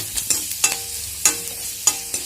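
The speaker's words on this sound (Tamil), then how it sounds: "கொஞ்சமாக தீயை குறைச்சி வச்சுட்டு இதை வதக்கணும். இந்த பிரண்டை நல்லா சுருளை வதக்கணும்." Pirandai (adamant creeper) sautéed in a pan on a low flame: a soft continuous sizzle broken by about six sharp scraping stirs of a spoon against the pan, close and alone.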